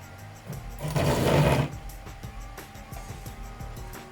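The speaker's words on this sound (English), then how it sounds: "I will have to use my heat gun here." A heat gun blows with a motor-like whir for about a second while carbon fiber wrap is worked onto the plastic fairing of a GPZ900r motorcycle, then drops back to a low, quiet room background.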